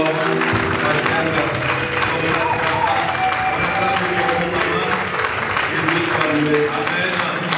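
Church seminary congregation in Orléans applauds and cheers to welcome a guest, a continuous loud wash of clapping and crowd voices blended with music tones throughout.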